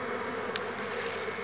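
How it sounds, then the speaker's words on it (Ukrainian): Honeybees swarm thickly around a bee watering trough in hot July weather, their steady close buzzing filling the air without pause. "наші бджілки, ну буквально таки рояться в цій напувальці нашій."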